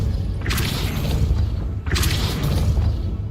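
A Depulso spell cast in the Hogwarts Legacy video game bursts out as two loud whooshing blasts about a second and a half apart, each with a booming low thump, dense and close with no voices.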